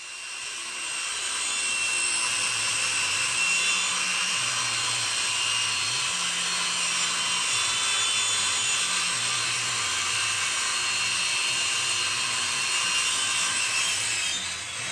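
A hand saw makes a long rip cut along a Kreg rip-cut guide, scraping steadily and loudly through wood for the whole stretch, with no talk over it.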